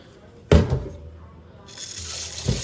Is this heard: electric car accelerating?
no